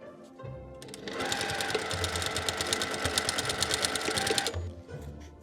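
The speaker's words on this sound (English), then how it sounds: "We cut the excess, stitching again with the stitching machine." A sewing machine stitches fabric for a medieval minstrel hat, running in one fast, even burst of close mechanical rattling for about three seconds, with soft handling noises before and after.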